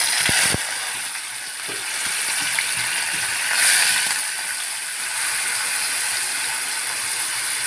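Prawns frying in hot mustard oil in a wok, a steady, bright sizzle that holds throughout with a brief louder flare partway and a few clicks at the start, close by with no speech.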